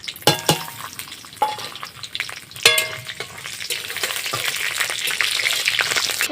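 Whole spices frying in oil for a tempering, with bay leaves, cinnamon, cloves, cardamom, dried red chillies and five-spice mix, giving close crackling sizzle, sharp spattering pops and a few clattering stirs, building to a denser hiss.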